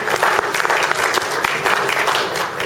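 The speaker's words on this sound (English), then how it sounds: "Give him a round of applause." Applause from an audience at a Korg PA3x keyboard launch demonstration, a thick burst of many hands clapping with crisp individual claps standing out, loud and steady, no talk over it.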